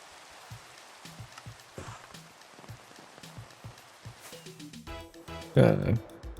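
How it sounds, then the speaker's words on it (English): Rain falls in Minecraft as a steady soft hiss that runs throughout, with a few small in-game clicks and tones on top and a louder burst near the end. "And now it's raining."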